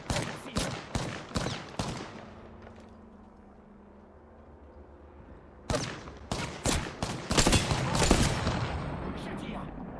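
Rapid bursts of video game gunfire crack out in two clusters, a quick volley first, then a pause and a denser, louder barrage, with faint talk between.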